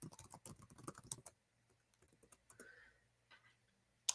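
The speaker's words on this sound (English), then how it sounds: "I'm going to type it really fast" Rapid typing on a computer keyboard: a dense burst of quick keystrokes for just over a second, then a few scattered, quieter taps in a quiet room.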